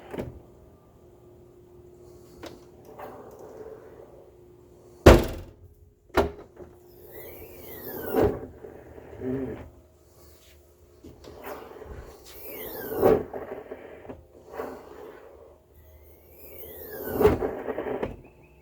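Several short mechanical squeaks and whirs as a Toyota Highlander's glass hatchback lifts and lowers on new gas struts, with soft thumps at intervals in a quiet space; no talking.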